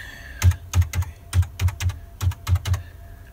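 Ten crisp clacks of fingers typing a new password on a computer keyboard, spaced at a steady, unhurried pace, with each keystroke loud and close.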